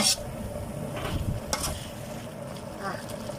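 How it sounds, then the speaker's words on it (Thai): Meat dry-roasting in a pan with fermented fish sauce, giving a soft steady sizzle with occasional stirring scrapes and clinks, close and fairly quiet. "เดี๋ยวคั่วให้มันแห้งๆนิดนึง"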